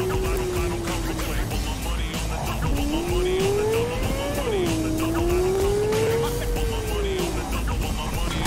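Car in Cyberpunk 2077 driving hard with a loud, steady engine roar and a long wavering tire squeal that bends up and down across the skid.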